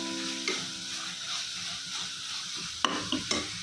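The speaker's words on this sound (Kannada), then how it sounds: "ಈಗ ಮೆಂತ್ಯ ಸೊಪ್ಪು ಚೆನ್ನಾಗಿ ರೋಸ್ಟ್ ಆಗಬೇಕು." Fenugreek leaves roast in a hot pan for pulao, a steady sizzle broken by scraping stirs and a few sharp clinks of the spoon against the pan near the end.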